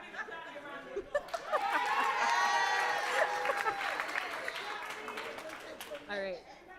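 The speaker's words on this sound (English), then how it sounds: "Johnny, y'all give Johnny a round of applause" Audience at a conference breaks into applause, a swell of clapping and cheering that builds and then fades, with crowd chatter and voices mixed in.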